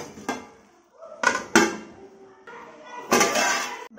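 A metal lid clanks back onto a pot of sarson ka saag cooking over a medium flame, a few sharp knocks and scrapes close by with short gaps between them.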